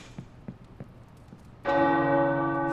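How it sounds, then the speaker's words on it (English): In the video game Marvel's Midnight Suns, a few soft clicks and taps give way to a loud tower bell strike that rings on, a rich sustained tone with layered overtones. "The tower bells are ringing."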